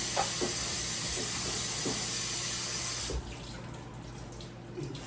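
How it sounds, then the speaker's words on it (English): Cut kale is washed under a running kitchen tap, a steady loud hiss of water splashing into the sink that softens and thins after about three seconds, then continues with light trickling. "So here I have my kale cut up. So I'll be washing it."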